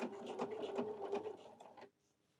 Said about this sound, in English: I'll move the needle over, and by sewing right along that edge right there